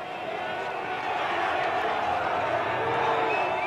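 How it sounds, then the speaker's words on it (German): A large crowd of Berliners cheers outside Schöneberg Town Hall in 1967 while thousands of demonstrators shout against the Shah, a dense, steady roar of many voices with scattered whoops and cries throughout. "Jubelnde Berliner vor dem Schöneberger Rathaus und Tausende von Demonstranten, die dem Schah ihre Wut ins Gesicht brüllen wollen."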